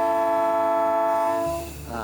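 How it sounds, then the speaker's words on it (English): A train whistle or horn sounds near the Reedsburg rail trail in Sauk County, one loud, steady multi-tone blast held for about a second and a half before cutting off, leaving a low rumble and a faint trailing tone. "Just heard a train whistle."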